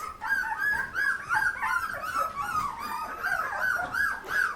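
Labradoodle puppies whimper and yip for their mother: a near, steady chorus of high, wavering whines rising and falling without pause.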